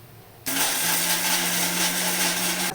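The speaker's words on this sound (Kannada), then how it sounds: "ಕುಕ್ಕರ್ ವಿಷಲ್ ಬಿಡೋ ಅಷ್ಟೊತ್ತಿಗೆ ಮಸಾಲೆ ಗ್ರೈಂಡ್ ಮಾಡ್ಕೊಂಬಿಡೋಣ" A mixer grinder grinds masala for a coconut chana gravy, its motor switching on abruptly and holding a loud, steady whir to the end.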